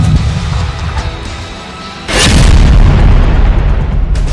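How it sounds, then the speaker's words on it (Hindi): Israeli engineers detonate explosives to demolish Hamas tunnels in Gaza: a single loud, deep boom erupts midway and rolls on as a sustained rumble, with no talk. "इन्हें तोड़ने के लिए इजरायली इंजीनियर्स विस्फोटक और रोबोट्स का इस्तेमाल कर रहे हैं।"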